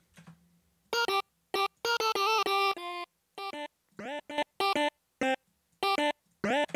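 Short staccato synth notes pass through a Camel Crusher compressor with its fat mode switched off, playing a choppy, uneven rhythm of bright, harmonically rich stabs separated by silent gaps, loud and close.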